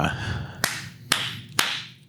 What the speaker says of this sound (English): Good clap, David.